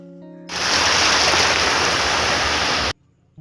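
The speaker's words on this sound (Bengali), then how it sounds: "তো চলে এসেছি বকখালি সমুদ্র সৈকতে, আপনারা দেখতেই পাচ্ছেন।" Surf rolling onto the sand at Bakkhali beach, a loud, steady broadband wash that surges in abruptly and holds for over two seconds before cutting away, with no talk over it.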